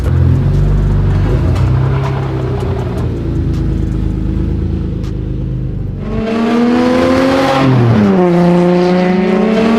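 A Toyota Supra of roughly 200 horsepower drives along, its engine humming steadily before a sharp drop and then rising, rasping revs as it accelerates hard through a gear change.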